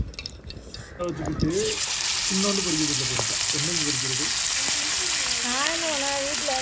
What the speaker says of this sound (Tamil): தேவையான அளவுக்கு எண்ணெய் ஊற்றிக்கிறோம் மீன் பொறிக்கிறது